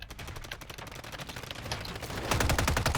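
Rapid automatic gunfire from a first-person shooter video game crackles in dense repeated bursts, growing louder and heavier toward the end, with no talking over it.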